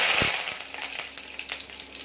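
Mustard seeds and curry leaves fry in hot oil while radish chutney is made, giving a close, steady sizzle with scattered crackles and pops and one sharp burst near the start.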